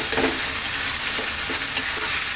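Fresh chopped tomatoes and oregano fry loudly in a pan for an eggplant pasta sauce, giving a dense, continuous close-up sizzle with no voices.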